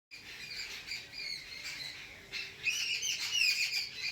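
Several birds call near a home during windy weather, sending out quick high chirps and tweets that overlap and grow busier and louder toward the end, with no talking.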